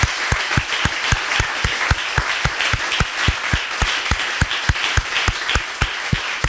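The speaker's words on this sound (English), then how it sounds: "I think we should just give these Paint the Town guys and girls a big round of applause." A crowd at a coding bootcamp graduation showcase gives a project team a big round of applause: dense, sustained clapping from many hands, fairly close and loud, with a steady low thumping pulse running beneath it throughout.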